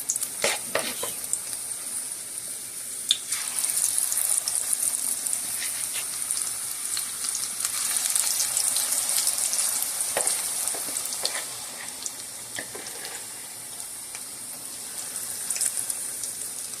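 Onion pakoras frying in very hot oil give a steady close crackling sizzle with bursts of bubbling and popping, continuous and fairly loud throughout, with no voices.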